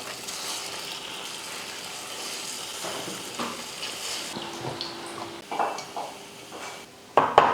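Urad dal bonda batter with onion frying in hot oil gives a steady, close sizzle, with small clatters and scrapes of a utensil toward the end.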